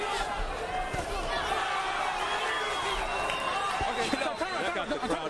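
Boxing arena crowd roaring during a WBO lightweight bout between Acelino Freitas and Artur Grigorian, a dense sustained cheer filling the whole clip with a commentator talking over it.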